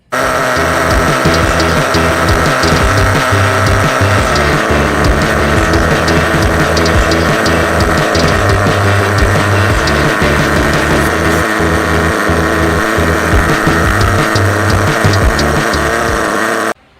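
A Kyosho Inferno ST 3.0 1/8-scale nitro truggy engine runs continuously during break-in, a loud, steady buzzing drone with small throttle surges and no pauses.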